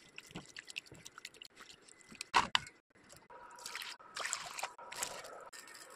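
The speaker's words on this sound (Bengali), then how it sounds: "আমি বিনস কেটে নিয়েছি, এখন ধুয়ে নিব" Cut beans being washed by hand in water, with close wet squishing, splashing and dripping in uneven bursts, a sharper clatter midway and fuller sloshing toward the end, no talking.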